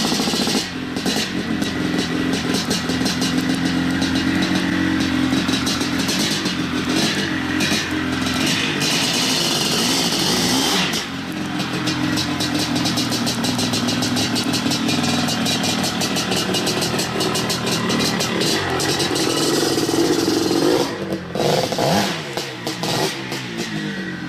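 Maico 700 two-stroke 684cc motocross motorcycle engine running loud and close, a raspy continuous drone with repeated revs and throttle blips, a brief dip midway, no talking.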